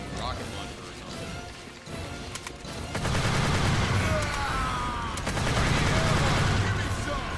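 Rocket launcher fire and explosions crash through a battle in the video game Earth Defense Force 2017, with a dense barrage of blasts building up and staying loud throughout.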